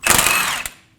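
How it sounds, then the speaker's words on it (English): A power tool with a 21mm socket spins off the drag link nut on a Ram 2500 Pitman arm in one loud, brief whirring burst that fades out, followed by a faint click. "we're going to remove the drag link nut with a 21mm socket."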